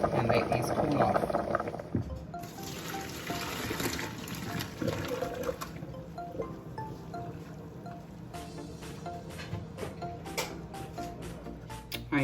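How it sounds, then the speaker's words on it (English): Cooked pasta noodles are poured off into a drain, giving a rushing watery pour that eases into a trickle, with a voice talking over it and small clinks toward the end. "the noodles are done. We're going to go ahead and drain these and let these cool off."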